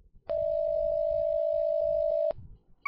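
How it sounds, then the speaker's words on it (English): Phone dialing tone, a steady beep held for about two seconds and then cut off, with faint rustling before and after it. "Okay, I'm gonna call him back."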